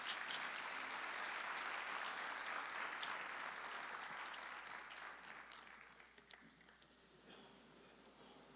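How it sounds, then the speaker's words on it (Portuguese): A church congregation claps in sustained applause that gradually thins out, with a few scattered claps lingering at the end. "Dá uma salva de palmas para o Senhor Jesus"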